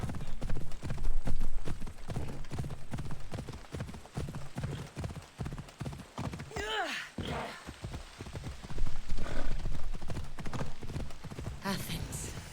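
Horse hooves clip-clop in a steady rhythm as a horse is ridden in the video game Assassin's Creed Odyssey, with a brief whinny midway, someone talking over the hoofbeats and game sounds.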